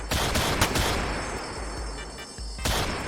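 Rapid bursts of video game gunfire fill the whole stretch, loud and dense like a firefight, with heavier booming hits near the start and again toward the end.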